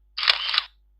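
A PowerPoint slide transition effect imitating a camera shutter, one crisp mechanical click-whirr lasting about half a second, clean and alone against silence.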